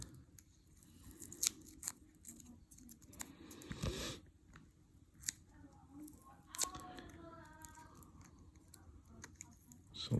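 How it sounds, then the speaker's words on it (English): Foam tape is peeled by finger off the odometer of a 2004 Honda VTX 1300 motorcycle, making faint, scattered crackling and scraping bursts with small ticks throughout. "At the very back you have a foam tape that you can remove first by just using your finger."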